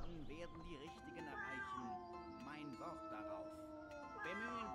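A cat in the Gothic 2 mod Legend of Ahssûn meows repeatedly in short, rising calls, close and clear over a quiet game ambience.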